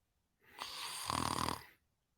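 A person imitates snoring with their voice: one long, rasping, rattling snore, close and fairly loud, with no other sound.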